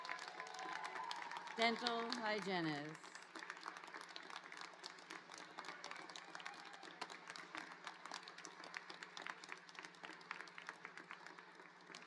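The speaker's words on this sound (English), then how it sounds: "let's give one more round of applause to all the pinned" A voice speaks briefly, then a large crowd at a dental program pinning ceremony breaks into sustained applause, many hands clapping in a dense, continuous patter that carries on to the end.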